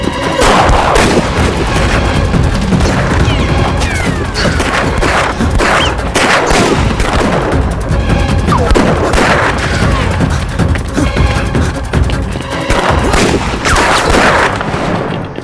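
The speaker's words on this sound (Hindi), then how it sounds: "गोली चलाओ।" A shootout in a Hindi-dubbed action film: loud, dense gunfire with rapid overlapping shots and heavy booms that continue without a break for the whole stretch.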